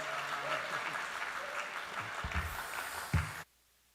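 A church congregation at a revival service applauds warmly for about three seconds, a dense steady patter of clapping that stops abruptly.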